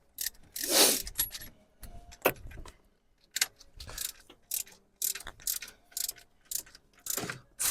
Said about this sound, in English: Now the only thing left to do is tighten this up, and that was the 27mm for the tensioner.